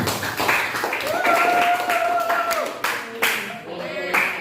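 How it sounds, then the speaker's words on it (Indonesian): A classroom of students claps for a pupil named Galuh, steady applause lasting several seconds with voices mixed in over it. "Kita beri aplaus untuk Galuh"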